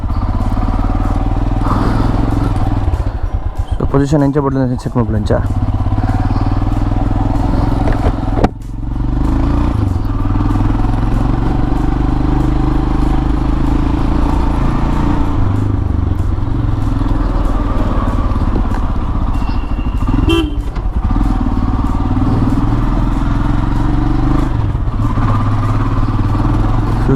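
A motorcycle ridden with a jaw-grip phone holder mounted up front gives a steady, loud engine drone throughout, with brief clattering rattles and a short rider's voice near the start.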